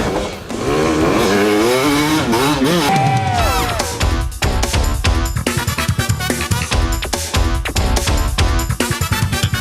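An off-road motorcycle engine revving hard as it carves a figure 8, loud and close, pitch sweeping up and down through leans before settling into a steady, gritty high-revving roar with choppy throttle pulses.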